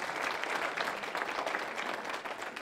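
An audience at a lecture claps together, a dense, even wash of applause that holds steady for a few seconds with no voices over it.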